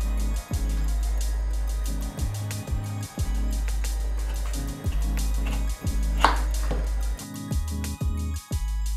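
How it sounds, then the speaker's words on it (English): A knife slicing green tomatoes on a cutting board, a run of firm, evenly spaced chops landing about once a second, close and clear with no talk. "We're gonna cut them."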